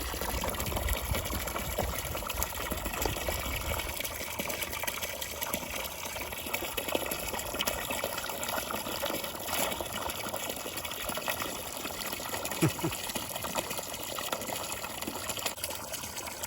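Fresh cold water pours and gushes steadily outdoors, a soft continuous splashing trickle at moderate distance with no one talking.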